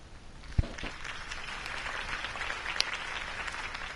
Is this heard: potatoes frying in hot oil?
no